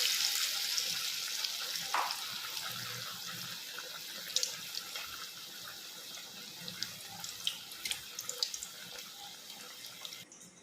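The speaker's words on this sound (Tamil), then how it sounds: "இப்போ இந்த பிரெட்டை இந்த மாவுல முக்கி டிப் பண்ணி பொரிச்சு எடுத்துக்கணும்." Bread stuffed bajjis fry in oil: a close, continuous bubbling sizzle with a few sharper pops and stirring clinks, and no voices.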